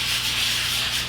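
Acrylic primed canvas is sanded by hand, a brief, steady, soft rasping rub with an even hissy texture and no pauses.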